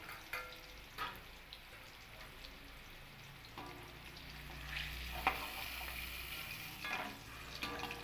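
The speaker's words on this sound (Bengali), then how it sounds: "এবার এই কুমড়োগুলোকেও আমি তুলে নেব" Fried pumpkin pieces lifted from a pan of hot oil while cooking vegetable khichdi, with a steady low sizzle and occasional scraping clinks of a utensil against the pan.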